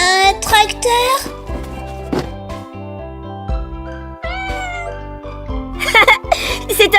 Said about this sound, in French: C'est un chaton!